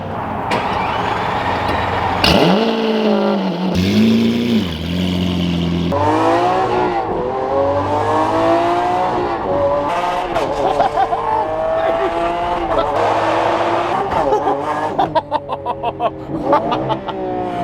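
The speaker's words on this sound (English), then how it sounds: "this is a cold startup on an FI straight pipe Aventador" Straight-piped Lamborghini Aventador with forced induction on a cold start, firing with a loud roar and then revving repeatedly in rising and falling surges, close and dominant, with quieter crackling toward the end.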